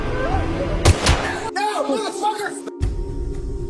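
Gunfire from an action film: a few sharp, loud shot-like bangs and sudden cuts break through layered movie sound, with a narrating voice talking over them throughout.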